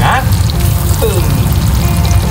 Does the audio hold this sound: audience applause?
no